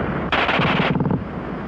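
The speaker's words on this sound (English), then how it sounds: "the German gun fires faster than anything you've run into before" German machine gun firing a rapid burst, a tight string of sharp, very fast shots lasting under a second, loud and close with no talk.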